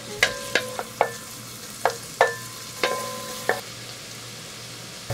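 Shallots and garlic frying in melted peanut butter in a pot for a beef stew, with a soft background sizzle under a series of about nine sharp metallic spatula scrapes and taps at an uneven rhythm.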